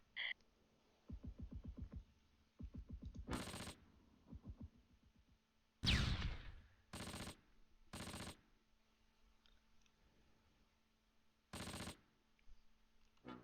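Gunfire in the World War II game Close Combat, with rapid bursts of machine-gun fire and several sharp single shots and blasts spread out over time, heard at a moderate distance against a quiet background.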